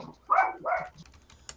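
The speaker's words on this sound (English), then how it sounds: "there's a dog again" A dog barks twice in quick succession at moderate distance, followed by faint clicking and tapping like keyboard typing.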